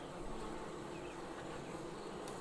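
Honey bees hum in an open Langstroth hive during an inspection, a dense steady buzz that fills the whole moment with no voices.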